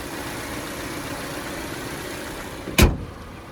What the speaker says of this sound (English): there is that 2-liter naturally aspirated flat 4 engine